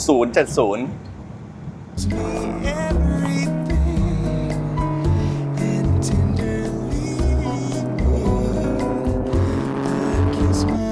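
A Ford Escort Mk1 Mexico, a small 1960s–70s car, drives with a loud, steady engine drone, changing pitch as it runs, preceded by a short burst of other sound.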